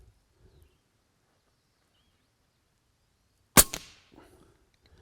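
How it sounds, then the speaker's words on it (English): A single 30-30 rifle shot with a subsonic load and 150-grain plated bullet, a sharp, fairly quiet crack with a short trailing ring, heard alone outdoors amid near silence. "I'm gonna shoot one of the top right dot."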